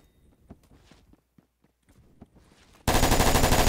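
Quiet footsteps and small shuffles in the first-person shooter Phantom Forces lead into a sudden, loud, sustained burst of automatic rifle fire that fills the last second without a break.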